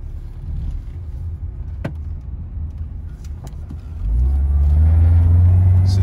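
A used Chevrolet Suburban on a test drive at an auto auction, its engine rumbling steadily from inside the cabin, then swelling louder and deeper toward the end as it accelerates.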